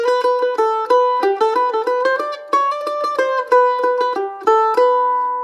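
A single melody line played on a stringed instrument, clear and close, with plucked notes stepping up and down in a steady rhythm, each note ringing briefly before the next. No voices or other sounds.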